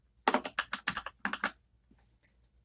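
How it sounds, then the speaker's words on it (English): A quick burst of about ten keystrokes on a computer keyboard, then a couple of lighter taps, quiet and close with no speech. "type the word meals"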